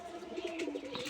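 Pigeons coo close by in a continuous, throaty run, the soft rolling calls layered over one another with a brief chirp near the end and no voices.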